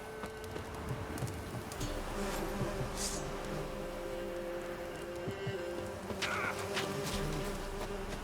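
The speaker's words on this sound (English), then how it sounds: "Bloody bees." Buzzing bees in the fantasy role-playing video game The Witcher 3, a soft continuous insect drone with a few brief game noises layered over it, fairly quiet and without speech.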